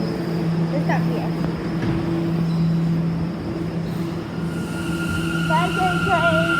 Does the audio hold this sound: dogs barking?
no